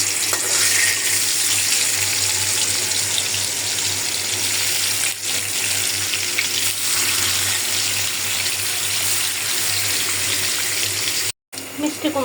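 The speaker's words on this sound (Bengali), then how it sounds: "আর এদিক দিয়ে বসাই দিই মাছ ভাজা।" Fish frying in oil in a pan on a home stove fills the air with a loud, steady, broadband sizzle that hisses almost unbroken, with a brief drop near the end.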